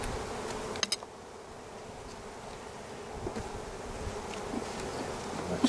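Honey bees hum steadily around an open hive colony, a close continuous buzz with occasional individual bees passing nearer.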